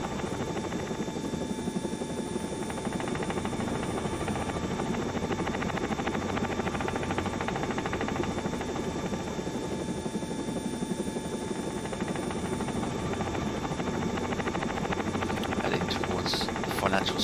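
A training helicopter flies steadily, its loud, continuous rotor and turbine drone filling the cabin throughout, with an instructor's voice talking over it.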